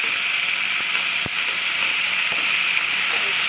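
Cumin seeds and green chilies sizzle in hot oil, making a loud, steady hiss with a single sharp clink near the start and no voices.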